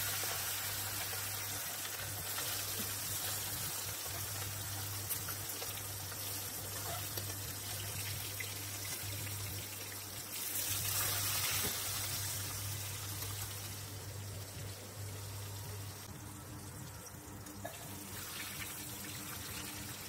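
Hilsa fish pieces sizzle and hiss steadily in hot mustard oil in a pan, a continuous broadband frying crackle with a low steady hum beneath, no talking.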